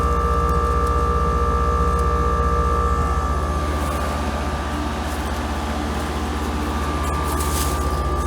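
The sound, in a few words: new 2022 Heil package heat pump unit running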